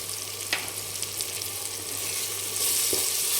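Tomatoes sautéing with salt in a pan for a mutton curry, giving a steady soft sizzle with a couple of brief clinks of a spoon, fairly close and alone without talk.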